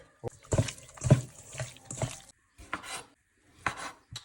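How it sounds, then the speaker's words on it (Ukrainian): Homemade Adyghe cheese rubbed against a grater by hand, a series of short rasping strokes in an uneven rhythm, close and fairly quiet, with brief pauses between the passes. "Натираємо домашній сир, адегейський"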